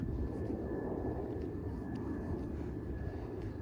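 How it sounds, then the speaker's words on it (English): Airplanes pass overhead along the Humber Trail near Albion Road, a steady, broad engine roar that holds for several seconds, with no voices. "you're going to be hearing this sound all day long. The sounds of the airplanes"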